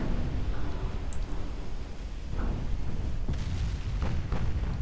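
Naval guns in a video game fire at a light cruiser, giving heavy booming shots and rumbling blasts over a deep continuous low roar, with a few sharper cracks spaced across the clip.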